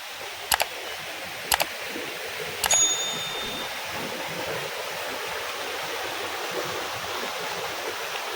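Steady rushing water flows continuously throughout, with a few sharp metallic clicks and a brief ding near the start.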